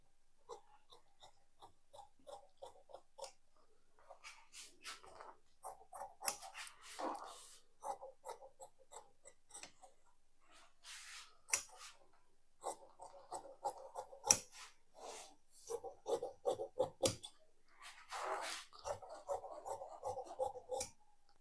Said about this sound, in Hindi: इस निशान से मिलाते हुए कटिंग कर लेंगे